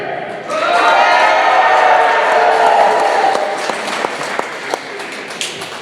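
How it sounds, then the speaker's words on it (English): Wrestling crowd at a City Championship Wrestling event cheering and applauding, a loud sustained roar of voices and clapping that rises quickly, holds, then thins into scattered claps and shouts. "That doesn't sound like a crowd that's excited to see Alex Shelley versus GUTTER."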